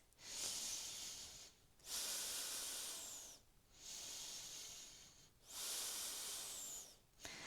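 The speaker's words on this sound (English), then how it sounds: "Breathing for 2 breaths." Deep, slow breaths taken during a yoga pose: two long airy inhale-exhale cycles, close and steady with brief pauses between them, and no talking.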